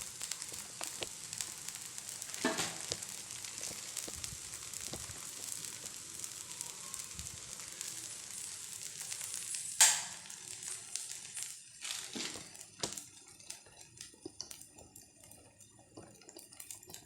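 Adai batter made from flattened rice and wheat flour fries in plenty of oil in a pan, producing a continuous fine crackling sizzle, fairly quiet and close, with a few sharper pops and utensil taps along the way.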